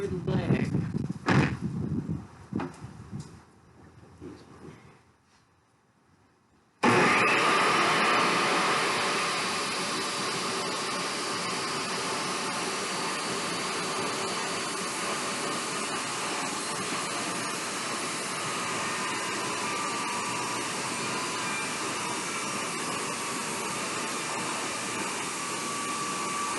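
A power saw rips a long taper off plywood to make a shim. Clattering handling noise fades to a short quiet gap, then a loud, close blade whine starts abruptly and runs steadily to the end.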